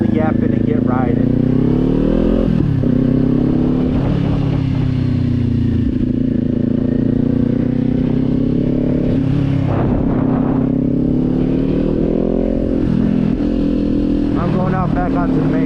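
A Kawasaki Z400 motorcycle rides along a road, its exhaust droning steadily with rising and falling revs and a few shifts, loud and close throughout, with no talking.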